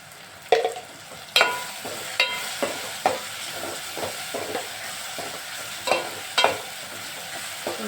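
Ginger garlic paste sizzles and fries in a pan with cooked-down onion and tomato, with a steady hiss broken by sharp clanks and scrapes of a stirring spoon against the pan.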